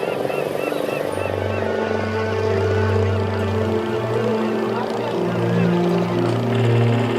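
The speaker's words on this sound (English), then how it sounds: "While the noise from the diesel engines is horrendous" Diesel boat engines on Chilika Lake, a steady low droning rumble that swells and shifts in pitch as boats pass nearby, continuous with faint background voices.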